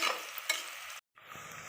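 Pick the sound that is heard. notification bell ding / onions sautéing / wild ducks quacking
onions sautéing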